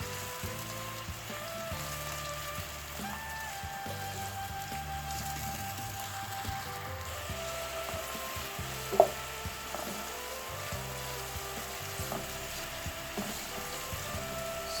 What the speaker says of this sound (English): Just going to add the chopped onion and the garlic together. So I'm going to stir fry this for 2 minutes